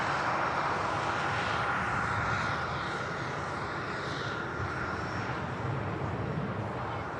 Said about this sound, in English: these two aircraft taxiing out as well